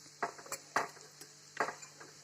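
Turmeric and onions are stirred in a pan while the onions roast for puffed-rice poha, giving a few short scraping, clinking strokes that stand out over a quiet sizzle.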